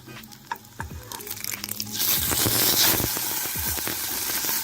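Stuffed tofu pan-frying in oil, a steady close crackling sizzle that swells louder as the pieces are turned over, with scattered clinks and scrapes of the utensil against the pan.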